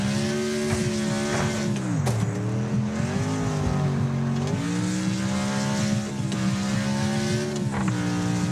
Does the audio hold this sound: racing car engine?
yes